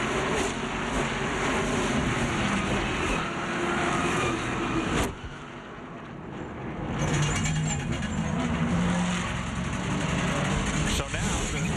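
NASCAR stock cars roar around a short oval track in a continuous engine drone that dips briefly and swells again as the cars pass, while a race commentator talks over the noise.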